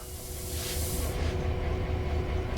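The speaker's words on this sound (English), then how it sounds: "So the doors will be closing in the background." Train doors closing aboard a simulated train in Train Sim World 5, a steady hissing rush over a low continuous hum, fairly loud and unbroken with no voices.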